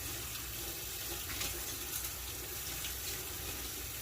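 Cool tap water runs steadily over a scrubbed shoe sole during a final rinse, a continuous close hiss and splash with no talking.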